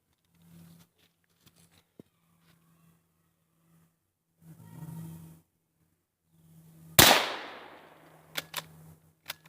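A rifle fired through a scope sets off an outdoor explosion: one sharp, loud blast with a long decaying roar, then a few quick pops, after earlier faint rustling and scattered low sounds.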